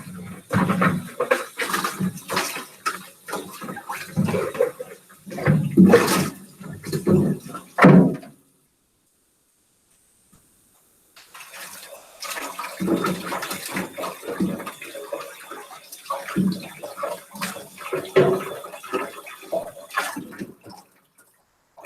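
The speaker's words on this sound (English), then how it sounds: "Pour out the water, pour out the clay into the bucket." Water and clay slurry are poured out into a bucket in two bouts of close, uneven splashing and sloshing, separated by a few seconds of silence.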